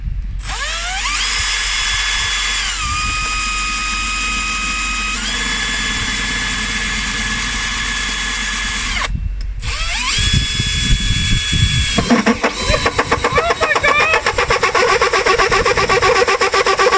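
A power drill whirs while boring a hole for a Gaslow gas system install, revving in several bursts with pitch shifts as it bites and slows, then a rougher grinding stretch near the end; no speech.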